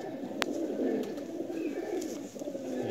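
Young Nil-dum pigeon chicks coo softly at a home loft in the evening, a low, continuous burbling murmur over faint ambient noise, with a brief click near the start.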